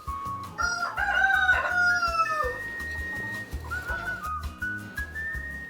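On a poultry farm with a soil-covered floor, a rooster crows loudly and close by, with overlapping crows and chicken calls that continue through the scene.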